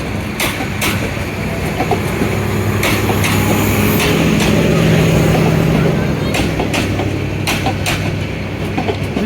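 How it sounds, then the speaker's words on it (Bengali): A long Subarna Express passenger train runs past on Bangladeshi rail, a steady loud rumble with repeated wheel clicks and clatter over about nine seconds, with people talking nearby. "বিশাল লম্বা ট্রেনটা দেখতে পাচ্ছেন, এটা উপকূল এক্সপ্রেস সোনা সুবর্ণ এক্সপ্রেস।"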